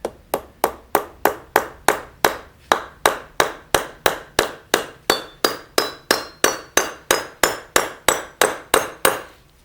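Steady, evenly spaced metallic hammer blows, about two and a half per second, driving a spring pin into a Ford 9 inch differential mini-spool, the ringing strikes growing slightly higher in pitch toward the end, with no talking.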